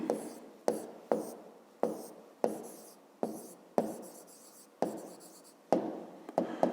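Pen or pencil writing on paper during a fifth-grade math exercise, repeated short scratchy strokes each starting sharply and fading, close and steady.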